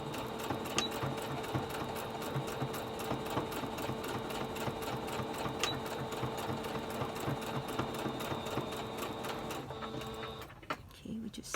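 A sewing machine stitches the nose dart of a pleated fabric mask, a steady rapid mechanical whir and clatter that runs for several seconds, then stops.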